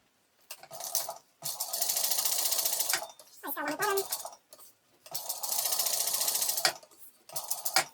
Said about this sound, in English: so we'll sew down either end